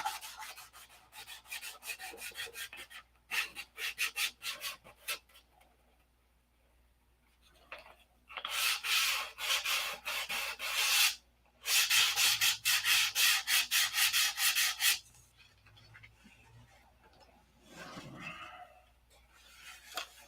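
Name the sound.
sanding a model airplane by hand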